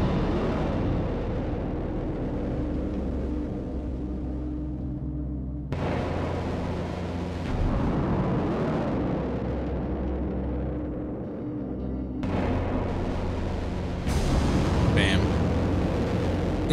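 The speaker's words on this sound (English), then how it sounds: "Explosions." Loud, rumbling explosions in the video game Children of the Sun boom and roar continuously, with several bursts layered over one another in a dense, heavy wash of noise.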